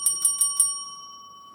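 Four quick, evenly spaced rings of a bell marking time at a school debate, each strike bright and clear, then a lingering ringing tone that fades slowly in an otherwise quiet room.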